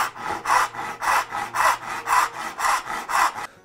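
A hand saw cuts a dovetail kerf in wood for an octagonal box. About eight steady, evenly paced push-pull strokes rasp loudly and close up, then stop.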